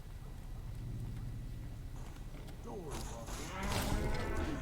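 A cow in the video game Fallout: New Vegas gives a loud, drawn-out moo over steady game background noise. The call rises and wavers near the end of the clip.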